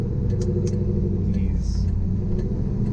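A Pontiac Trans Am WS6 with Kooks headers and a BTR stage 3 cam rumbles under acceleration, a steady deep exhaust drone with light revving throughout, close and fairly loud.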